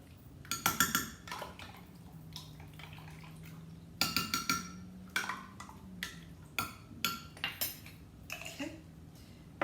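Beef being mixed with two tablespoons of oyster sauce in a bowl, with repeated clinking utensil-against-bowl scrapes and taps in irregular bursts, close and moderately loud, over a faint steady hum.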